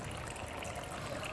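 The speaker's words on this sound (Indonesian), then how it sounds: "Kami akan menyalakan dan akan keluar air di sini, seperti pada air terjun atau pegunungan." Water pours steadily out of a solar-powered water pump, falling like a small waterfall in a constant close splashing rush with no speech.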